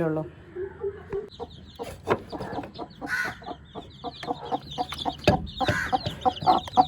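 Hens and roosters on a Kerala home farm cluck steadily in a close, busy cluster, with occasional sharper calls rising above the flock and a person talking faintly in the background.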